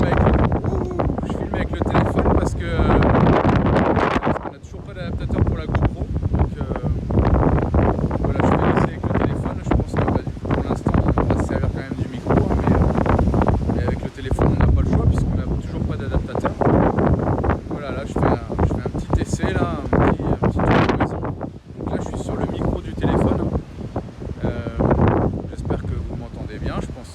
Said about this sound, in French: Il y a grave du vent là ce soir.